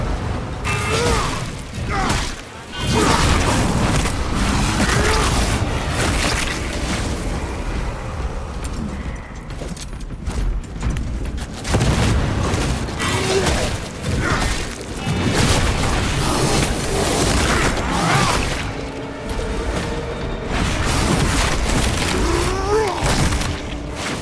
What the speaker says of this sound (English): Deploying fragmentation grenade.